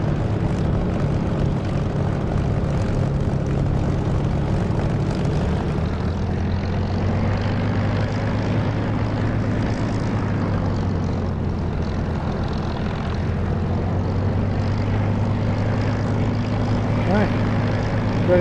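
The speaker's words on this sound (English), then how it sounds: "Love the sound of this engine, which is not the DCS sound, it's a sound from Echo 19." A propeller aircraft engine in the DCS flight-sim game, using an Echo 19 sound mod, drones steadily and loudly throughout, with a deep constant hum and a slight pitch shift partway through.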